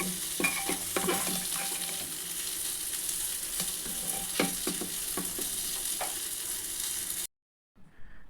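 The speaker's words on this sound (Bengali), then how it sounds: "ধনে পাতা দিয়ে নেড়ে নিচ্ছি" Chopped coriander leaves get stirred into a sizzling dish in a pan, a steady frying hiss with scraping strokes from a spatula, then a brief gap and a faint sound near the end.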